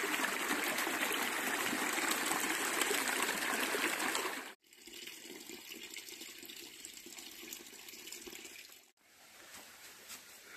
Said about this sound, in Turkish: Güzel suların kenarlarından geçiyoruz. Dere kenarı.